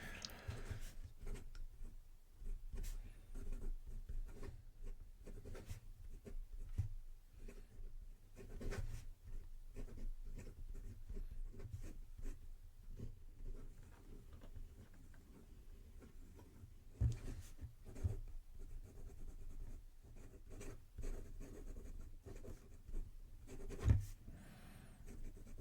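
A fountain pen with an oblique broad nib writing on paper, soft continuous scratching strokes with small taps and pauses, close but quiet over low background noise, no speech.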